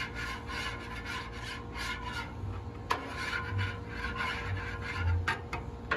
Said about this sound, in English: I'm going to go ahead and just scrape this a little bit and get some of the sticky stuff off in here